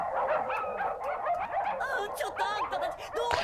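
Several dogs in the anime Cowboy Bebop bark and yip excitedly in a short burst, loud and close, mixed with laughter.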